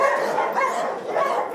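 Small fox terrier barking at a pound: a run of short, high yapping barks repeating in quick succession close to the microphone, with no talk over them.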